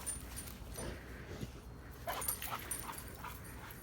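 Dogs play together, giving high whimpers and yips over a busy, scuffling background. The whines come in short repeated bursts, fairly close, with no talking.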